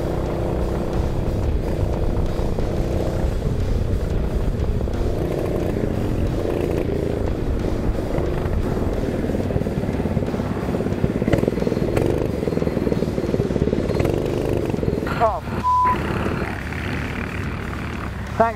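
A freshly rebuilt racing kart engine drones loudly and continuously on a practice day, buzzing at a steady pitch with slight wavers before a brief sharper rev near the end.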